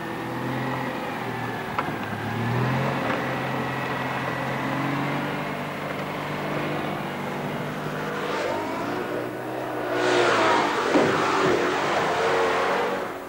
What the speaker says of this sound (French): la Méhari 4x4 passe, certes lentement, mais en douceur, là où les 4x4 classiques utilisent la force